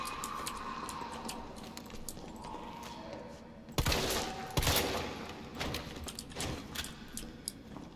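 Gunfire in the Resident Evil 3 Remake video game, with two sharp, loud shots standing out near the middle over a steady game soundscape, followed by quieter scattered impacts.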